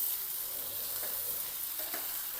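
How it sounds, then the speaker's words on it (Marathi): Onion, turmeric and steamed poha being stirred and sautéed in oil in a pan, giving a steady, soft frying sizzle with faint stirring scrapes throughout, no voices. "पोह्याला कांदे चवीनुसार मीठ, परतून घ्यायचं। कांद्याला जास्त भाजायचं नाही तेलामध्ये। थोडी हळद, परतून घ्यायचं।"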